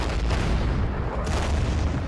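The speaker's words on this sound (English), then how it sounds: "we'll hit them with some artillery up here" Artillery fire in the wartime strategy game Order of Battle: Sandstorm, a continuous rumbling barrage of deep booms and muffled blasts that stays loud and heavy for the whole stretch, with no voices.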